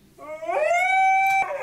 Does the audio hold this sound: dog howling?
yes